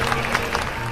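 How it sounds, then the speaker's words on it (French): Short burst of audience applause, dense and steady with a few sharper claps standing out, lasting under a second. "On l'applaudit s'il vous plaît."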